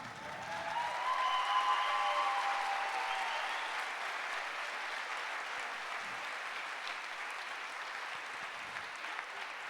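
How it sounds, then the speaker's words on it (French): Audience applause for Carole at a citizens' festival Q&A, a dense steady wash of clapping that swells loud in the first seconds and then holds at a slightly lower level, with a few faint tones underneath. "Et c'est elle qui devrait avoir des applaudissements."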